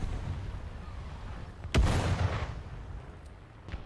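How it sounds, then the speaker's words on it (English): In a World War II tank video game, one deep artillery explosion booms midway through, with a rumbling tail over low battle noise and a few faint distant pops after it. "I'd rather not hit by a friendly artillery strike."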